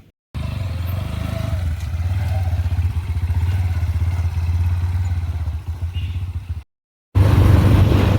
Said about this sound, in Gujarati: બાઇક પાછળ આવે છે આપણું.